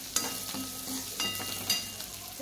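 Green chillies frying in hot oil for Maharashtrian kanda pohe, a steady close sizzle with soft stirring scrapes and a few brief spatters, no voices.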